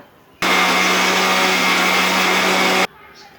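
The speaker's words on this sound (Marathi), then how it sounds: "आता आपण मिक्सर लावून घेऊया।" A mixer blender roars into a loud steady whir for about two and a half seconds while blending watermelon juice, then cuts off abruptly, leaving quiet room tone.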